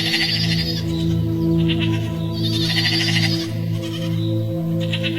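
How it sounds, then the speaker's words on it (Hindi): Goat bleating in a village setting, repeated wavering calls over a dense, loud layer of steady background sound, with bleats rising and falling across the clip. "जब बकरी की होती एक अजीब सी आवाज से बिरजू की नींद खुली।"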